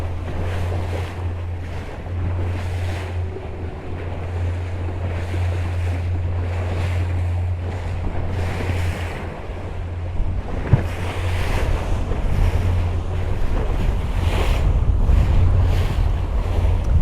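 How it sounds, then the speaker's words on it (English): Ocean waves roll and slosh against a sailboat on the open sea in fog as it heads toward Bermuda, with a loud, continuous wash, a low steady hum and gusts of wind buffeting the microphone. "we're getting a little bit more wave action."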